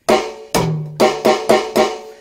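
Drum intro played on snare and high tom: a sharp opening hit, a lower ringing tom stroke, then four quick snare strikes, close and loud with no talking.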